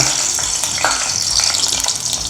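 Oil sizzles loudly in a pan during frying, a close, continuous bright hiss with crackling pops and the faint scrape of stirring.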